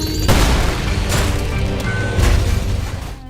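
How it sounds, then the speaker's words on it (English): A car blows up in the ULTRAKILL game, a loud booming blast followed by rumbling crashes and further bursts, dense and forceful throughout. "notice that there's an explosion on the car, and then we can see smoke coming off of it"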